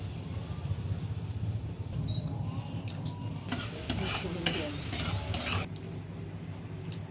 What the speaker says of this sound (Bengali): এই পর্যায়ে আমি একটু করে নাড়া দিয়ে দিলাম।